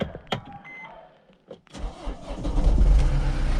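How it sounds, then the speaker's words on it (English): A van's starter motor cranks after the vehicle has sat unused since the day before, then the engine catches and settles into a loud, rumbling idle that fills the second half. "Definitely nothing wrong with that starter motor, that starter battery."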